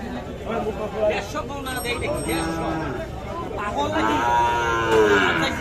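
Sahiwal calves mooing repeatedly at a busy rural cattle market, the calls loud and close over constant crowd chatter and people talking nearby.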